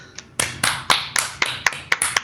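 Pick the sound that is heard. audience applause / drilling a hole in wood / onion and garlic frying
audience applause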